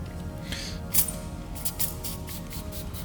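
A spray bottle of cleaner gives a few short, faint hissing sprays at irregular moments against a quiet background while a Tesla Model Y is washed.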